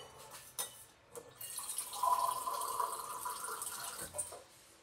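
Water runs from a tap in a home kitchen, a soft splash building into a steady stream for a few seconds, preceded by scattered faint clinks and drips, fairly close and without talk.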